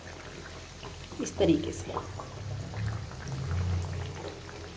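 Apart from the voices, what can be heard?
mathri frying in hot oil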